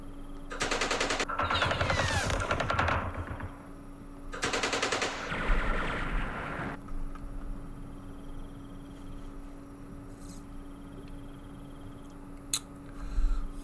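Gunfire sound effects from Campaign Series Vietnam, a Dien Bien Phu wargame scenario: two loud bursts of rapid weapon fire close together, followed by quieter rumbling and a faint sharp report near the end.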